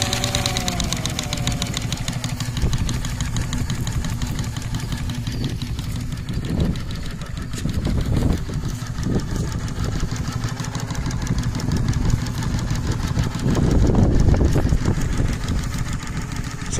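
A Case model steam tractor engine runs at a reduced speed, a steady mechanical chugging with periodic louder puffs and knocks, close and continuous throughout.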